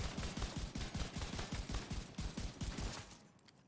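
A rifle in The Division 2 fires rapidly at a close-up target, producing a dense, regular volley of loud, punchy shots that stops abruptly near the end, with no talk over it.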